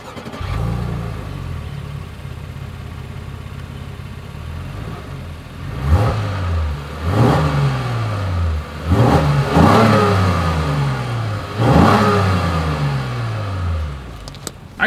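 The exhaust and engine of a 2025 Honda Pilot idle, then rise through about five sharp revving blips in quick succession, each climbing and falling back, loud and close with no talking.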